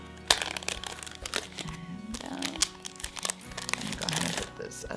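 Paper sheet being pulled out of a blank 003 refill insert in a traveler's notebook with a kraft paper cover, giving several close crinkling and crackling rustles with faint talk underneath.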